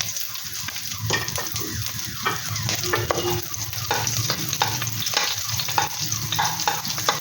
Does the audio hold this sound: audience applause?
no